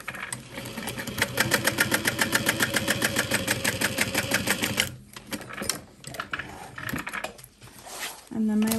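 A sewing machine stitches a backpack's bottom gusset pieces together, running as a fast steady rhythmic whir for about five seconds, then stopping and giving way to shorter bursts and handling noises.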